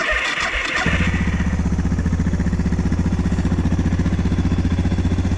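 A Suzuki DR650 motorcycle engine, choke on, cranks briefly, then catches and settles into a steady, loud, rapid idle with a constant throbbing rumble.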